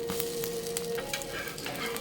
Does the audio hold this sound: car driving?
no